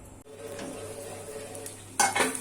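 Beetroot frying in a pan on a stove, a quiet steady sizzle, then a brief louder clatter of a spatula stirring near the end.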